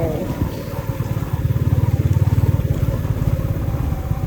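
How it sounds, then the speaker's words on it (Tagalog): A motorcycle engine rumbles past on a road near Tatlong Krus in Paete, Laguna, its low pulsing throb swelling up close for a second or two and then fading into steady outdoor background noise. "Ay, nakamotor."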